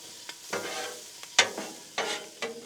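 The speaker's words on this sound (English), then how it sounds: "come in here and just stir up these peppers and these onions" Peppers and onions are stirred on a Blackstone griddle, with a spatula scraping in a few distinct strokes over a soft, steady sizzle close by.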